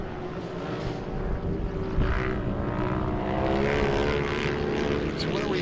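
A Can-Am UTV races during championship qualifying at Chocolate Thunder, its turbo engine a steady, loud drone that swells slightly and runs on continuously. Heard from a distance, with some voices faintly underneath.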